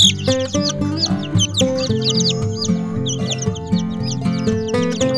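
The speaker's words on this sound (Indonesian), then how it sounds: "Inilah ayam cimani sahabatku." Several Ayam Cemani chickens cluck nearby in a steady back-and-forth chatter, with busy chirping from other birds layered over the top.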